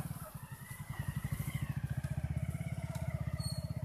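Motorcycles on a damaged hill highway in Kailali, Nepal, with two bikes queued, their engines chugging in a steady, loud idling pulse that rises slightly as one revs, close by and without talk.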